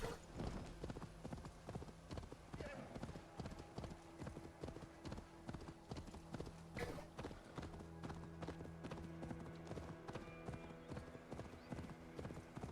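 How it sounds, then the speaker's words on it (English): Horse hooves clip-clopping in a steady trotting rhythm in the video game Assassin's Creed Valhalla, with occasional snorts and a whinny, under a continuous low game soundscape. "Is that the horse making that sound?"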